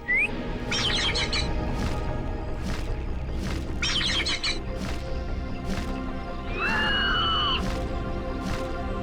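Bird chirps and squawks come in bursts through a tense scene, repeated tweeting clusters over steady background noise, with a longer rising call near the end.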